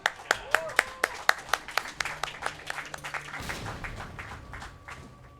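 A few people clap in irregular sharp bursts during a hardcore no-damage Resident Evil 2 (2019) speedrun, the claps loud and close at first, then thinning into scattered softer taps over a steady background hum.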